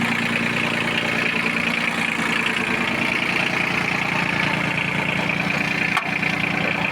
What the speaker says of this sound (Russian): Сейчас включим вал отбора мощности.